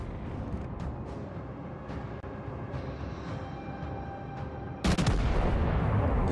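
Main guns of the battleship Texas firing in World of Warships Legends, a sudden heavy broadband blast near the end that cuts through a steady rumbling background and then sustains as a loud roar.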